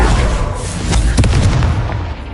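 A Confringo spell fired in the video game Hogwarts Legacy bursts loudly, a dense booming blast with crackling spread over a couple of seconds, filling the whole clip with no pause.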